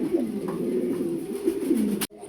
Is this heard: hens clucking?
no